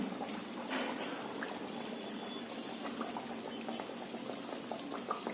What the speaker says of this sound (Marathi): आपण त्यावरती घालायचे हे बघा तेलात हे अलगद सोडायचं